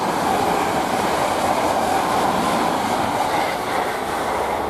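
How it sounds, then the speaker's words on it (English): A train rolls steadily through Romford station, a continuous broadband rumble and rattle of wheels on track, close and unbroken throughout. "Now I've got another train come through"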